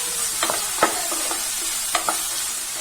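Chopped capsicum sizzles steadily in hot oil for a dry besan-coated stir-fry, with a gentle continuous frying hiss and a few scattered clinks and scrapes of a stirring spoon, close by and without talk.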